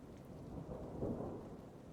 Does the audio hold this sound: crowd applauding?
no